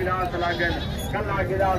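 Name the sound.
goat or kid bleating at livestock market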